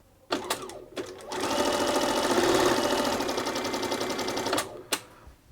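A Bernina 930 Record electronic sewing machine runs a 3-step zigzag stitch, a steady rapid mechanical rattle that lasts about three seconds, with a few clicks and knocks before it starts and after it stops.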